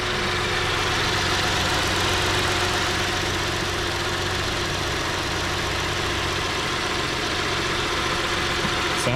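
A 2010 Ford Edge engine idling after a valve cover gasket replacement, a steady, even hum with a low rumble that runs unbroken and close throughout, with no voices over it.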